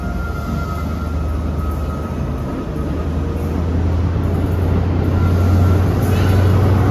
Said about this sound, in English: So about to get now is the 1152 ScotRail service from Aberdeen to Edinburgh Waverley.